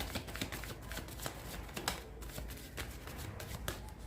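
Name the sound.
tarot cards being shuffled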